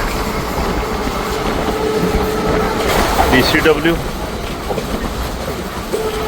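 A passenger train, number 54552, runs from Bathinda Junction toward Ambala Cantt with a steady, close rumble and rattling wheel clatter, and a voice speaks briefly partway through.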